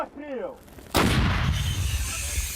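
A British-supplied artillery gun fires at Russian positions: one sudden, very loud blast close by that booms and rumbles away for over a second, with a brief voice just before.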